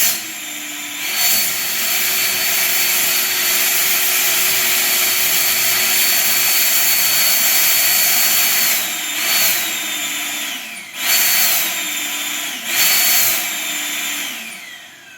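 A Magic FX eco2jet CO2 jet effect blasts a loud, sustained roaring hiss that runs for many seconds, then breaks into several shorter bursts with brief gaps near the end.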